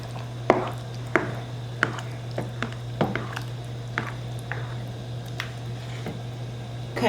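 Ingredients for baked spaghetti with Italian sausage being mixed, with a series of sharp utensil taps and scrapes against a bowl over a low steady hum.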